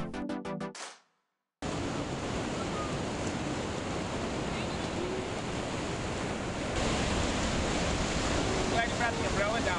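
Ocean surf at a beach, a continuous loud roar of breaking waves with wind buffeting the microphone, after a brief burst of another sound and a moment of silence at the start.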